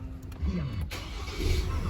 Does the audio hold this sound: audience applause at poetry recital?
no